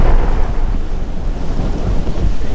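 Steady rain hissing with low rolling thunder rumbling throughout, loud and continuous with no voices, in the game GTA V.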